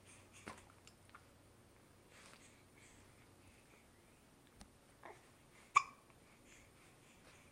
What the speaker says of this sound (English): Oh, you hiccups.